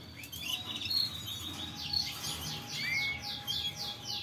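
Birds in a breeding cage, a male with four chicks, give brief high chirps and repeated short tweets over a low background hum, close and moderately loud.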